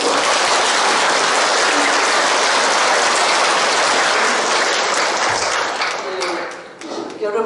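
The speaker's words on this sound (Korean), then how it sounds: "박수로 맞아주시고" A large audience claps continuously to welcome a nun giving a Lent retreat talk on prayer, dense and loud throughout before thinning and fading near the end.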